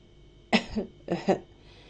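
A narrator's voice imitates a character's cough: two short, close throaty bursts about half a second apart, fairly loud against a quiet background.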